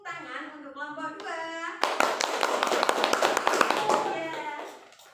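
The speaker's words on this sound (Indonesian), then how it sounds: "Oke, kita berikan tepuk tangan untuk kelompok 2." A classroom of children claps for a group of classmates, a dense burst of hand clapping that bursts in after a voice and fills the rest of the moment before fading.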